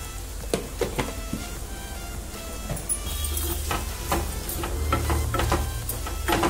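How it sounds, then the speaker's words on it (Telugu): Mutton pieces fry in a pan with a steady close sizzle, punctuated by sharp scraping clicks of stirring that grow denser and louder toward the end; no one speaks. "కొంచెం వేయించుకోవాలి."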